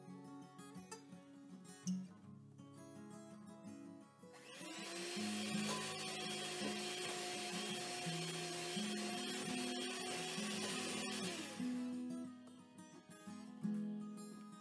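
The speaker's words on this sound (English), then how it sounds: "I'm going to use my mixer." An electric hand mixer whirs loudly and steadily for about seven seconds while beating one whole egg and one yolk, starting abruptly and cutting off cleanly, with quieter kitchen sounds before and after.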